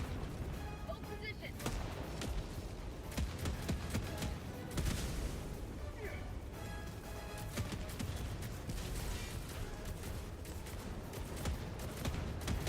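Gunfire in the Helldivers 2 video game, scattered crackling shots and heavier booms rolling through a busy battle mix, while people talk over it throughout.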